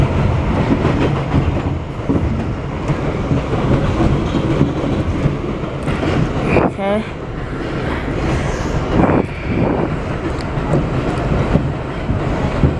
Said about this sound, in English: There's an express train